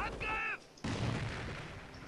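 A grenade goes off in the Company of Heroes strategy game, one sharp loud blast following a brief tone, with a rumbling tail of battle noise afterward.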